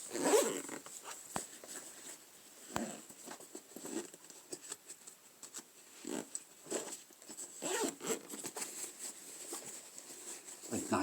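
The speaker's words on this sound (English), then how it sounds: "while I'm busy messing around with the zips" Zips on a Brandit US Cooper chest pack pouch are pulled open in a series of short, close, rasping bursts mixed with soft fabric rustling and handling, quiet, with no talk.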